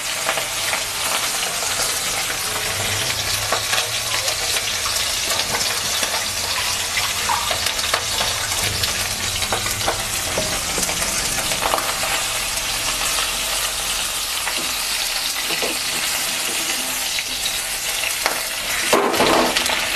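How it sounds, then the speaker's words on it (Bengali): Hilsa fish heads fry in oil, giving a loud, continuous close-up sizzle with occasional stirring scrapes and clatters and no talking throughout. "মাথাগুলো ভাজা হয়ে এসছে, আমি ফোনে তুলে নেব।"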